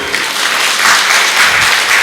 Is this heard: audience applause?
yes